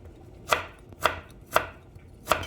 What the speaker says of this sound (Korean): 당근도 채 썰어서